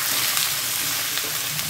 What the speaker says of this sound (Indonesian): Nih, kita goreng aja semua.